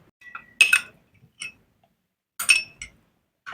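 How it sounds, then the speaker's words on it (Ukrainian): A metal spoon stirs a milk and gelatin mixture for a dessert, making a few bright, separate clinks against the bowl with quiet pauses between them. "Перемішуємо."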